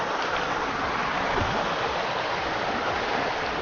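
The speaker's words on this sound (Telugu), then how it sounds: "సో మినీ వాటర్ ఫాల్ లాగా మాకైతే ఫస్ట్ వాటర్ ఫాల్ వచ్చేసింది" A small waterfall at Moola Kona near Tirupati pours over rocks, a steady, close rush of splashing water that runs without a break.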